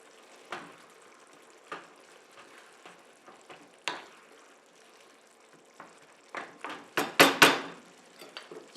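A pan of sauce with basil, oregano, olives and anchovy simmers, giving sparse soft pops and crackles that grow into a denser burst of bubbling near the end, close up.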